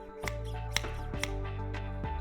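Four crisp metallic snaps of Okatsune KST231 pruning shears closing, spaced about half a second apart, over a low steady hum.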